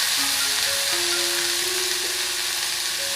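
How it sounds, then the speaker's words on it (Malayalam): A banana flower cutlet mixture sautés in a pan, producing a constant dense hiss of sizzling oil with faint tonal hum in the background and no voices. "ഇത്രയും ചേർത്തിട്ട് നമുക്കിതൊന്നുകൂടെ ഒന്ന് വഴറ്റിയെടുക്കാം."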